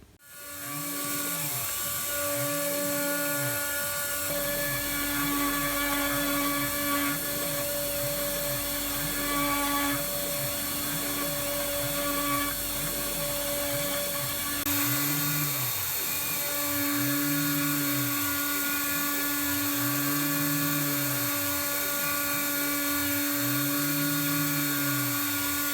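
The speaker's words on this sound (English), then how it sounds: "let's hop over to the CNC machine and get that cut out." A CNC machine cuts out a control panel enclosure part with a loud steady whine and a rhythmic pulsing drone that shifts pace partway through, running continuously with no speech.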